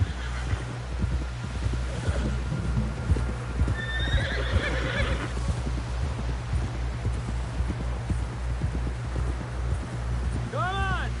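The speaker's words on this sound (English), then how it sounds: "Someone help John down off this horse." Horse hooves clop in a steady galloping rhythm in Red Dead Redemption 2, with a clear neigh midway, a rider's voice calling over the hoofbeats, ending with another whinny.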